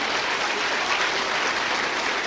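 A church congregation applauding during a sermon, a dense, even round of many hands clapping together, loud and sustained throughout without a break.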